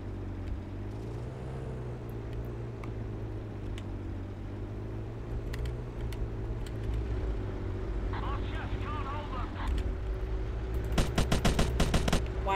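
Gunfire in Battlefield 1942 on the Gazala desert map, a rattle of shots over a steady engine drone with aircraft overhead, ending in a quick burst of rapid fire, while someone talks.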